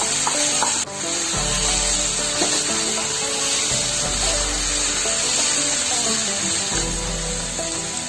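Onion paste and elephant yam pieces fry in a pan with a loud, constant sizzle, close up, broken by repeated scraping strokes of a stirring spatula, with no voices.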